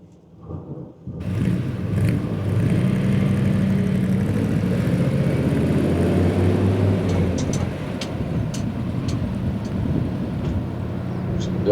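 A restored 1978 Chevrolet Scottsdale K20 4x4 pickup truck drives along with a steady, loud, low engine drone and road rumble that holds nearly the whole time after a brief quiet start.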